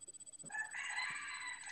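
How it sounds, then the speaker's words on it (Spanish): Roosters crow faintly in the distance, one drawn-out cock-a-doodle-doo rising over a quiet background with a low rhythmic pulsing before it. "Uy, ¿dónde están los gallos?"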